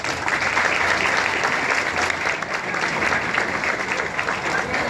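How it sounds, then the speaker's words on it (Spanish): Crowd applause at an outdoor band festival in Berlín, El Salvador, for marching band members and baton twirlers: loud, sustained clapping with crowd noise and some voices mixed in throughout. "para quienes pido un fuerte aplauso."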